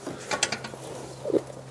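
A ratchet clicks in short bursts while working on a Porsche Cayenne transmission, a few quick metallic ticks followed by a duller clunk, close and fairly quiet.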